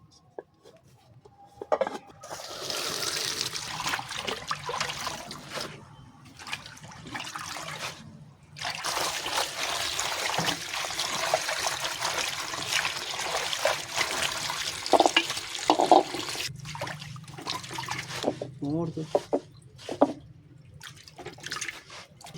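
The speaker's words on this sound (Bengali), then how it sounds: "মরিচ গুলো একসাথে নিয়ে নিচ্ছি ভালো করে ধোয়ার লাগে" Chilies, onions, garlic and leafy vegetables are rinsed by hand under running water in a home kitchen, giving a steady splashing trickle with brief pauses and occasional drips, close and fairly loud with no talk.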